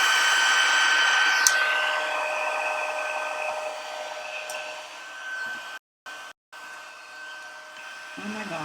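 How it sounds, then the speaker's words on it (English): A heat tool for card making blows with a steady loud whirring hiss, briefly cutting out twice near the end before resuming, with some faint handling sounds. "the heat tool is going to make some noise"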